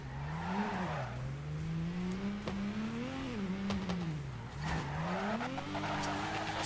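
In the Torque Drift racing game, a tuned car drifts against an MX-5, its engine droning and rising and falling steadily while tires squeal continuously, loud and close, with no talking.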